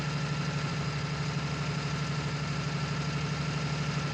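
A 240-horsepower New Holland T7 tractor in Farming Simulator 19 runs at a steady, even engine drone with a deep low hum and a faint rattling texture, holding at one level for the whole stretch with no voices.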